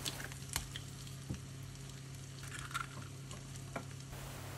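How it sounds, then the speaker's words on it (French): Eggs added one at a time to melted butter crackle and sizzle in a pan, a soft continuous frying hiss with a few faint clinks and taps, quiet and close with no talking. "je rajoute les œufs un par un."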